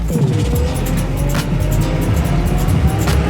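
A car engine pulls hard while driving through Pruszków streets, a loud close rising drone heard from inside the cabin, steady and strong through the whole run with no talk over it.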